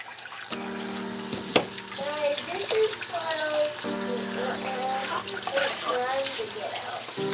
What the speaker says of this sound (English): Leave me to do my dishes.